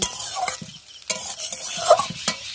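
A home-cooked school tiffin dish is stirred in a pan on the stove, with a steady soft sizzle and scraping of the spoon against the metal, close and continuous with no talk.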